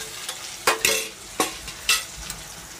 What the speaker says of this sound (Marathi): लसूण थोडासा लाल झाला आहे, त्यात आपण हा चिरलेला कांदा घालून घेऊया